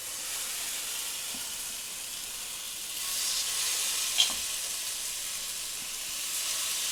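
Vavval (pomfret) fish slices frying in a pan, a steady broad sizzle with a soft hiss throughout, swelling slightly midway, with one brief clink of a utensil and no talking.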